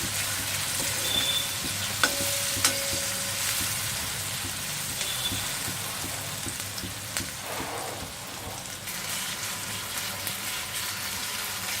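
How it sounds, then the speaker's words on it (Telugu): Sliced onions fry for a mutton curry with a steady, close sizzle and crackle throughout, plus occasional scraping stirs in the pan and no talking. "ఓకే ఇలా ఫ్రై అవ్వాలి ఆనియన్స్."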